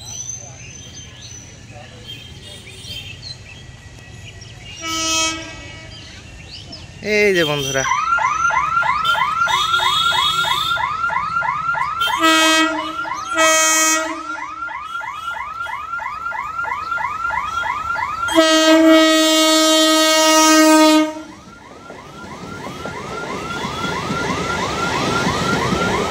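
A train passes and sounds its horn near Plassey station, with long loud repeated blasts that swell and break off across the passage, over a rumbling background, and someone speaks briefly near the start.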